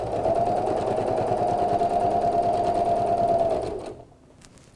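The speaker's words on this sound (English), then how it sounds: "lift the foot and pivot so that you're now going to stitch down this side of the fabric" A sewing machine runs steadily for nearly four seconds, stitching down the side of a pinned fabric first aid pouch, then stops, leaving near silence at the end.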